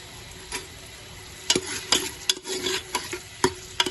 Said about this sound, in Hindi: घी डाल दिया। इसमें हम डालेंगे प्याज।